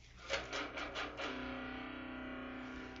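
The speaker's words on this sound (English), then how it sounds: "You know, you get some distortion and you play your guitar really low." Electric guitar through a distortion effect, tuned down to drop C, plays a few heavy chugging low notes and then lets a thick, buzzing chord ring out and sustain, loud and alone without voices.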